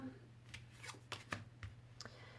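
Tarot cards flipped and shuffled in the hands during a reading, a run of quick papery slaps and flicks at close range over a steady low hum, with no talking.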